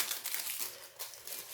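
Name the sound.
plastic film wrapping crinkling while unpacking canvas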